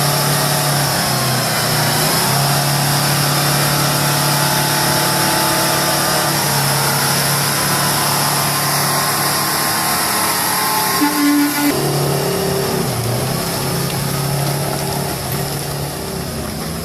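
A heavy truck engine revs and labors as the truck drives through deep mud, with tires churning through slop; a loud, sustained mid-pitched drone that rises and drops in pitch midway, with no talking.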